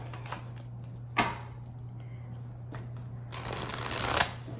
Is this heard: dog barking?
no